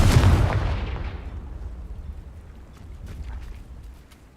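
A Confringo blasting spell detonates in Hogwarts Legacy with a loud, close explosive boom that decays into a long rumbling tail, followed by faint scattered crackles and no talk.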